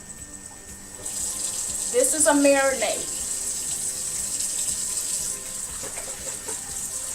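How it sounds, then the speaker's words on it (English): Water runs steadily from a tap into a pot of pork chops, a continuous hiss with a short burst of talk near the start. "we're going to add some water up in there"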